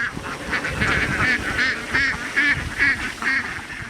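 Farmed ducks kept on a flooded wetland quack and honk repeatedly in a loud, close, rhythmic series of calls.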